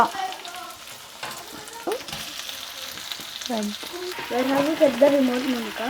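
Onions frying in a pan, a steady hiss and sizzle with scattered stirring scrapes and clinks, close and moderately loud, growing busier toward the end.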